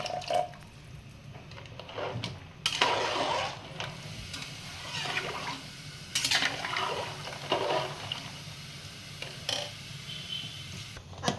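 Hot water splashes and pours into a pot of crab curry in several separate bursts, with quieter dripping and trickling between them.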